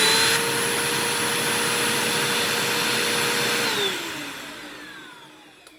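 Sanitare SL4110A professional bagged upright vacuum cleaner running: a loud, steady whine with a high motor tone, then the pitch drops as it switches off and spins down.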